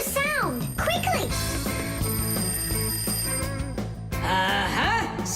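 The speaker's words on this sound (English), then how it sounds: "Simka, I think I can hear my alarm ringing." Alarm ringing in a Fixies cartoon scene, a busy ringing tone that runs steadily through the clip beneath music and cartoon voices.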